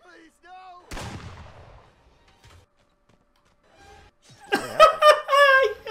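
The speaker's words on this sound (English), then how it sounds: "I got shot!" A single sharp gunshot bursts out early in Friday the 13th: The Game, followed by quiet game sounds, then a person talking excitedly near the end.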